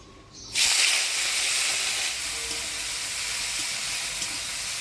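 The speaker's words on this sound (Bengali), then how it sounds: "এবার চিংড়ি শুটকিটা ভাজি নেব" Dried shrimp hit hot oil in a pan with a sudden loud sizzle that settles into a steady, close, crackling hiss of frying.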